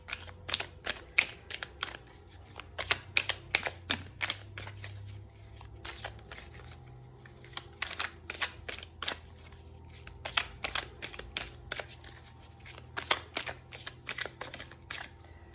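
Tarot cards are shuffled close by in a quiet room, with rapid bursts of crisp riffling slaps repeating in clusters over the whole stretch and short gaps between them.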